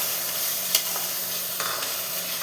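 Spice paste with cumin powder and a splash of water sautés in oil for a mustard-oil fish curry. The sizzle is dense and steady, with a couple of soft stirring scrapes and no speech.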